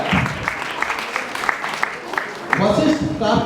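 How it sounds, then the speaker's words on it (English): An audience claps steadily at an awards event as names are read out, the scattered claps running under a voice calling out. "Keep clapping."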